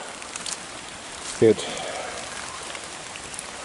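Steady rain patters over a tilapia fish farm at early morning, a dense even hiss throughout, with a short spoken word cutting in briefly near the middle.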